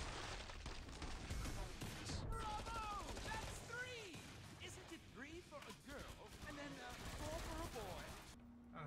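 Light machine gun fire in the co-op zombie shooter Killing Floor 2, loud sustained bursts with crashing impacts and game effects, mixed under players' chatter throughout.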